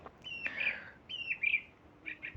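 Birds chirping outdoors at a front line, with several short bright tweets and calls in bursts over a quiet background, fairly close and clear.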